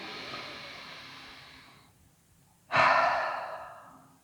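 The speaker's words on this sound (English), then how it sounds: "So inhale through the nose and exhale through the mouth." Cleansing breaths during a morning yoga class: a long, soft exhale through the mouth fades out, then after a short pause a sharp, louder breath rushes in, close and alone.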